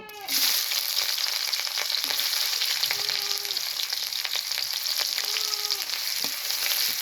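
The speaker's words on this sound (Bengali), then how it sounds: "তেলটা গরম হয়ে গেছে, পেঁয়াজ কুচি দিব।" Chopped onion hits hot oil in a pan, giving a steady, loud broadband sizzle with occasional sharper crackles throughout, close and continuous without speech.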